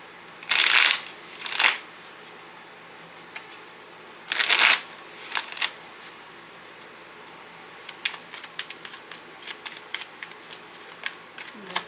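Tarot cards being shuffled by hand, a few loud riffling bursts early on followed by a series of softer, scattered card taps and slides, close and with no voice.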